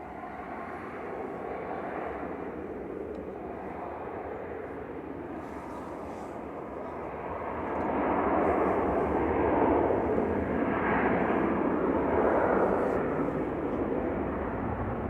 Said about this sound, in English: Royal Jordanian Flight 116 back to Amman, JYAYS A320 Classic.